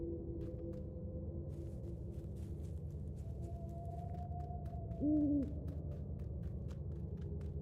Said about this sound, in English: I heard the owl hoot.